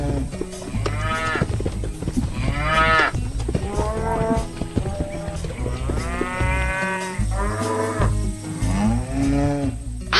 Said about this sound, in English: Look at that cow go.